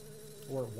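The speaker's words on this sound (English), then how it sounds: "Or wasps. They look like more like wasps than bees." A brief insect-like buzz of bees or wasps around a hive in the video game Majora's Mask 3D, a faint whirring drone that swells near the end.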